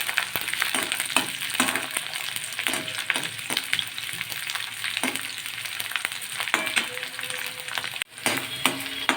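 Small shallots sauté in a pan for a Chettinad green pepper curry, giving a dense ongoing sizzle with frequent stirring scrapes, close by, and a brief dip near the end.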